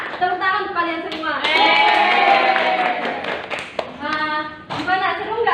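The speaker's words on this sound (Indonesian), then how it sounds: "Tepuk tangan untuk kalian semua." A class of children claps hands together, a dense burst of applause with cheering voices in a classroom, swelling then fading, with children's voices and a teacher talking around it.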